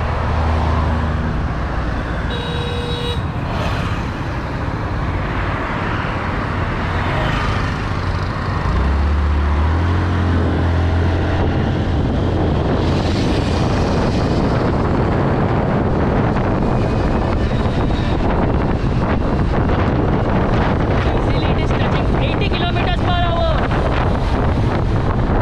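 A Honda Activa 5G scooter rides at speed on a road test, its engine drone buried under heavy wind buffeting on the microphone and passing traffic noise, loud and continuous throughout, with a voice talking at times.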